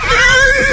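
A horse neighs as a radio sound effect, one loud close whinny held with a wavering tremolo and no talk over it.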